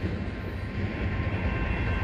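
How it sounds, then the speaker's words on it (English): A Union Pacific autorack freight train rumbles past a road crossing at night with a dense, steady roar that stays loud and unbroken throughout, with no talking. "There goes the train."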